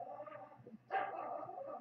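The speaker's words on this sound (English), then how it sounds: "if you hear my dog barking in the damn background, but pay no never mind to it." A dog barks in the background of a home recording: one sharp bark rises out of a low murmur after a brief pause, faint and distant, followed by lingering noise.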